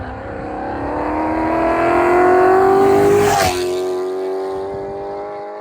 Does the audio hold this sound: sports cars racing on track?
yes